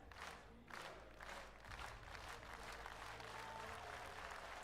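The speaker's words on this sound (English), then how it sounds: "And hear the applause of the crowd as we're getting ready." Applause from a large esports arena crowd, steady dense clapping with some cheering, fairly distant and continuous throughout.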